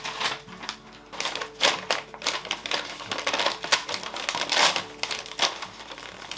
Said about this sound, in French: Déchirer le paquet encore.